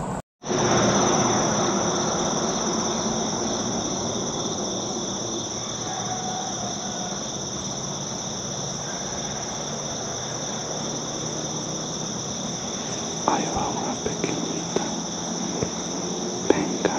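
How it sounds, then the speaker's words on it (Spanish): A cicada in a pine tree gives a loud, continuous high-pitched buzz that starts abruptly and holds steady throughout, with faint rustling and a few brief knocks near the end. "Atrás de esa piñita está una chicharra que ya me tiene hasta el gorro."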